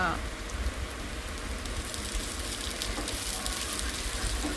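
Chicken fries in a pan with a continuous hiss and sizzle, like rain on a surface, loud at first and then holding at a steady level.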